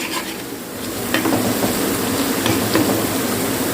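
Fish with spicy masala frying over a low flame on a tawa, a constant crackling sizzle with a few sharp scraping stirs.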